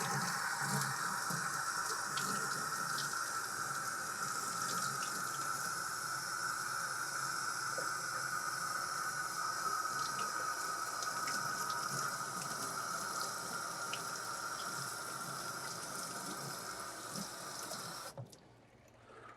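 Warm water runs from a tap to soak a leather holster, a steady close hiss and splash continuing without break before cutting off at the end.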